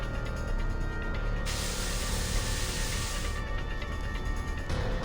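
Spores sprayed in a steady hissing burst, loud and close, continuous for about two seconds before easing back to a constant background hiss.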